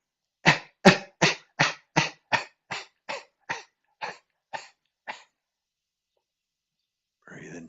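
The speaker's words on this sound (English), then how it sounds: "Coughing out." Forceful coughs during a breathing exercise in a healing class, a dozen sharp bursts at a steady rhythm that gradually weaken and thin out, followed by silence and then a faint rustle.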